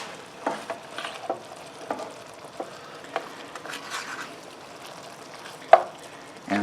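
Hoppin' John is stirred in a pot with a spoon, giving soft scraping and thick, wet squelching strokes at irregular intervals over a quiet background, with a sharper clink near the end.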